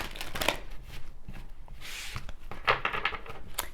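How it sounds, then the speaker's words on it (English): Tarot oracle cards shuffled continuously by hand, soft papery riffles and slides, close and steady, with no voices. "Let's continue and do some shuffling."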